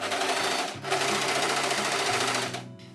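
A sewing machine runs a single row of gathering stitches on jumpsuit fabric, a loud, close, steady whir with one brief dip before it continues and slows at the end.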